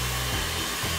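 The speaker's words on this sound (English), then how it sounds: "I'm gonna start drying the hair, start blasting the hair so you can hear the volume of this." A hair dryer blasts hair at close range, giving a loud, steady roar whose low hum shifts pitch briefly as the airflow changes, with no voices over it.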